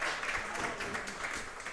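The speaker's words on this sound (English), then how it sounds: "Can we give them a round of applause for helping make this possible?" A school sports audience applauds sponsors at a coaches' show, a moderate spread of clapping from a mid-sized crowd heard fairly quietly and at some distance.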